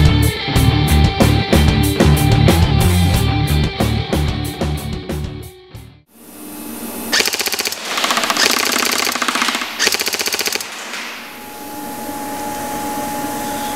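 G&G Top Tech M4 Lite airsoft gun locked in a gun jig, firing BBs in a rapid full-auto burst of loud mechanical clatter for about six seconds, followed by quieter intermittent whirring and rattling bursts.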